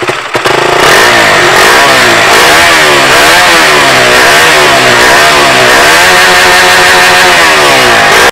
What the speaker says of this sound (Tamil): இதோட எக்ஸாஸ்ட் நோட் ரொம்ப பியூட்டிஃபுல்லாக இருக்கு.